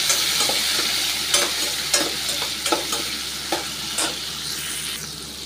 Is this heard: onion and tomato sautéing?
yes